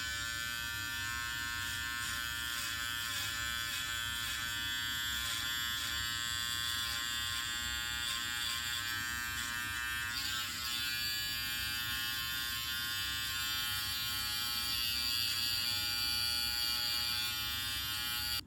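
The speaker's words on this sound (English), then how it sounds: "So I need to remove everything else now with your trimmer." An electric beard trimmer buzzes close up while trimming sideburns, a steady, even hum that runs unbroken throughout with no speech.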